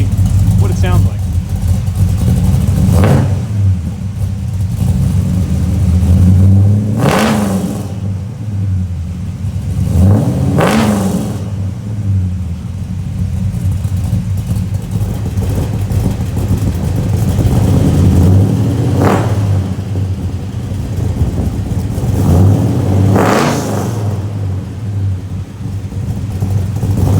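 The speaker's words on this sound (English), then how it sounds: "do a quick little rev and see what it sounds like" Big block Chevy V8 running through headers and exhaust, a steady loud rumbling idle with several sharp revs rising and falling at regular intervals, close and continuous.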